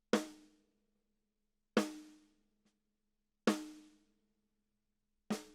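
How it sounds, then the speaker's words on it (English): A snare drum picked up through a hi-hat microphone in a studio strikes four times at an even, slow pace, each crisp hit ringing out and decaying into silence. "And the snare drum in the hi-hat microphone sounds like this."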